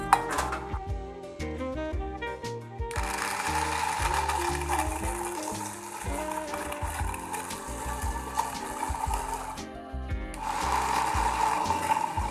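A blender crushes fresh guava with lemon juice, sugar and water, its motor whirring loud and close in steady bursts with brief pauses between runs, a churning rattle under the drone.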